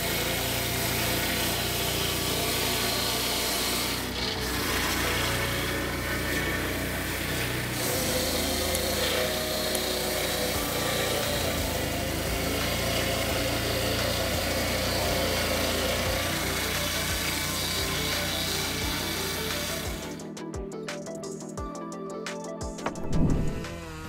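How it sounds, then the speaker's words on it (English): A Husqvarna 3120XP chainsaw roars loudly and steadily as it cuts through a wood log, then drops away near the end, leaving a few quieter knocks. "The resounding sound of the Husqvarna 3120XP chain saw makes us admire the power it brings."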